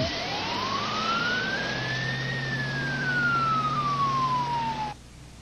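A single long ambulance siren wail sweeps slowly up then down in pitch, loud and steady over engine rumble, cutting off abruptly near the end.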